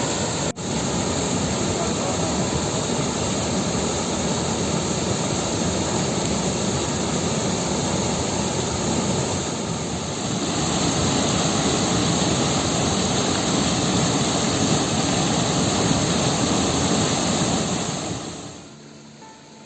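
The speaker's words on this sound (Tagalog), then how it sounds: "Nung umulan ay nagkaroon na ng ganito Mini Falls dito sa Barangay Mangkasuy." A small waterfall flows after rain in a rural village. A loud, continuous rushing wash fills the whole clip and fades near the end.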